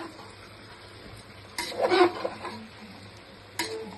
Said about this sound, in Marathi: घेतलेला तांदूळ घातला। आता तो पण मी परतून घेते।